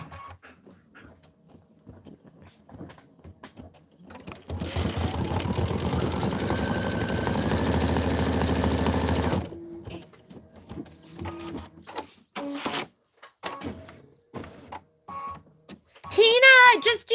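Embroidery sewing machine stitching a design for a Valentine bench pillow, a steady rapid mechanical whirring and needle chatter lasting several seconds, with quieter clicks and a person talking before and after.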